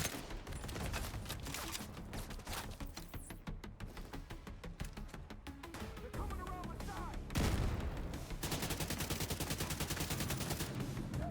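Video game gunfire in Tom Clancy's The Division 2, Battle for Brooklyn: dense, rapid automatic bursts and sharp shots, loud and almost continuous, with a heavier impact midway.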